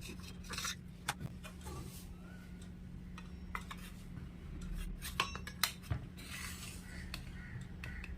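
A metal utensil cuts through soft steamed dhokla in its metal plate, making faint scraping and occasional light clinks and taps on the plate against a low steady hum.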